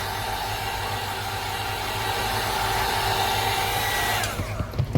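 A hair dryer runs steadily and loudly as it dries a freshly painted object, a broadband whooshing drone that holds for about four seconds before cutting off and leaving a few soft handling bumps.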